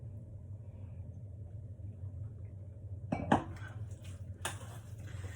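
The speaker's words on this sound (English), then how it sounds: "let me just get that finally all mixed together" A spoon stirs a vegan mushroom burger mix in a bowl, with a few sharp clinks and scrapes against the bowl in the last seconds over a steady low rumble.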